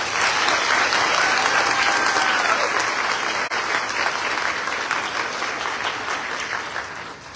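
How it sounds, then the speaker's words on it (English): A large audience gives a warm round of applause for staff and instructors at a Lincoln Tech Paramus campus summer graduation ceremony, with dense clapping throughout that slowly eases in volume. "I would like for you to give a warm hand of applause to our phenomenal staff and instructors at our Paramus"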